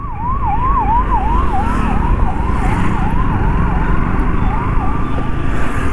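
An ambulance siren wails in a steady, repeating up-and-down pattern amid continuous road traffic noise heard from a motorbike, loud and close throughout.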